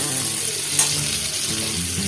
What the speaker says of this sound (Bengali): আমি আলু আর পেঁপেটা লাল লাল করে ভেজে নিচ্ছি